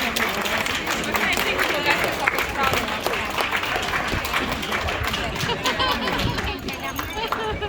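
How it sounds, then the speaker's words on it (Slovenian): An outdoor crowd on a city square in Ljubljana, at a Japanese culture day aikido demonstration, gives a loud, sustained round of applause, with dense clapping mixed with crowd chatter and cheering throughout. "En velik aplavz"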